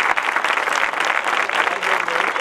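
An audience gives steady, dense applause throughout, a continuous wash of many hands clapping at close range with no break.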